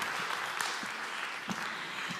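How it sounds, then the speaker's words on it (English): Modest audience applause after a mindset seminar exercise, a fairly quiet, thin patter of clapping with a few louder individual claps scattered through. "Big round of applause."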